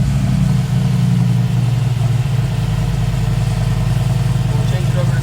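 A 2021 Mercedes-AMG G63 engine runs steadily at idle, a deep, continuous low rumble that stays loud and even throughout with no clear revving.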